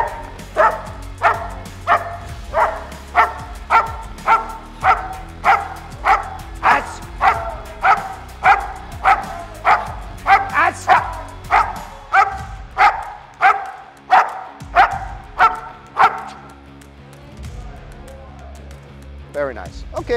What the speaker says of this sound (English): That was good barking.